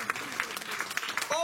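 A church congregation claps briefly in acclaim to the Lord, quick uneven handclaps mixed with voices.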